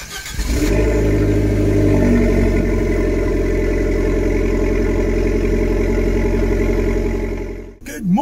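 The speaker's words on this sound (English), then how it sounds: "Drivers, start your engines!" Abarth car engines started up together at a Thruxton racing event, a loud, sustained roar of several motors running close by with steady revving that cuts off sharply near the end.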